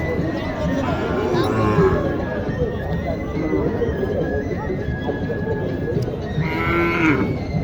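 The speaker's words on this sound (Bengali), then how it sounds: "সাদা কালো গরুটা কার" Sahiwal and local bulls at a cattle market in Mathajihat, Naogaon let out long, low moos over a constant crowd murmur, with people talking nearby the whole time.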